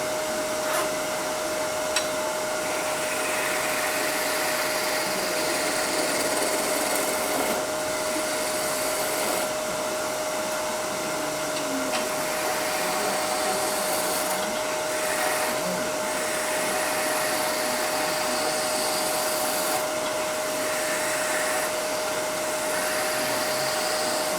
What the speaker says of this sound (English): I'm going to smooth it up with a skew